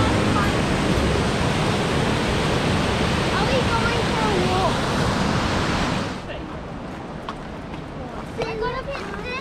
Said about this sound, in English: We're at Monkey Creek,